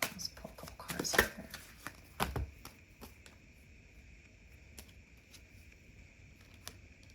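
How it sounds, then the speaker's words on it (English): Tarot cards are shuffled and drawn at close range, giving a burst of quick riffling and flicking at the start, then sparse soft card taps and slides against a quiet background. "Let's pull a couple cards here."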